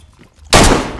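A single sharp, loud gunshot goes off in the video game DayZ, a sudden blast halfway through that rings out for the rest of the moment after near silence.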